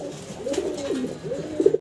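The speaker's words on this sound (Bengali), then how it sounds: "নর ডাকতেছে ঘুরা ঘুরা।" A male yellow swallow pigeon coos in a caged pigeon farm, giving a few rolling, throaty coo phrases close by that grow louder toward the end, with no talking.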